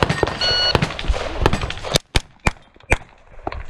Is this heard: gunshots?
yes